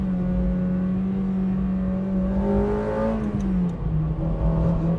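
A Honda Integra Type R with its naturally aspirated VTEC engine pulls hard through third gear toward 9,000 RPM, a steady rising engine tone heard from inside the car with no talk over it.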